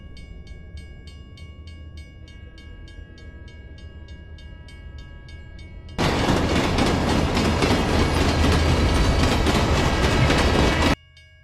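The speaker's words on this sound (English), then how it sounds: "I could hear the train getting louder and louder" A train on the tracks, first a rhythmic ticking clatter with a low rumble, then a sudden loud roaring rush that cuts off abruptly.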